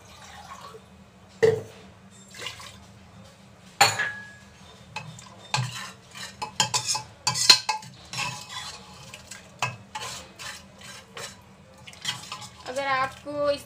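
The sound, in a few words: extra half glass of water added and stirred into chana dal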